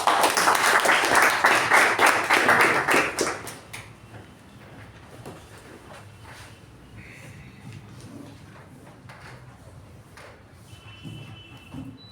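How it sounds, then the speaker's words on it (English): A Toastmasters meeting audience breaks into loud, dense hand clapping to welcome a speaker, sustained for about three seconds before tapering off into quiet room noise with faint movement. "Please welcome Toastmaster Vijay Upendra with a huge round of applause"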